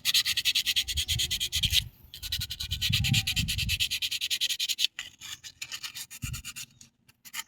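Fine 1000-grit sandpaper rubbing a copper contact on a signal light switch, a fast steady back-and-forth scratching in bursts with a brief pause, close and moderately loud, no talk.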